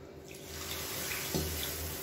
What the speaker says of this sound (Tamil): 1 கப் அளவு தண்ணி சேர்த்துக்கலாம்